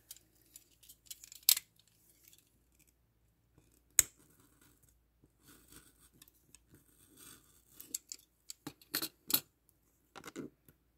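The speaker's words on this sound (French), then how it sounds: "je peux même le couper tout de suite avec mon cutter" A cutter knife slices through paper while making a handmade grimoire, heard as sparse, close crackles, sharp ticks and short scraping strokes scattered through a quiet room.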